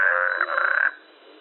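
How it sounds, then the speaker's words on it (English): A toad gives a single close, loud, buzzing croak that lasts about a second and then fades off, with no other sounds. "Toad."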